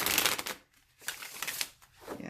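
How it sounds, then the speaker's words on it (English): A Dark Moon Damsel oracle card deck is shuffled by hand at close range in three quick riffling bursts separated by brief pauses. "It shuffles very nicely, for the most part"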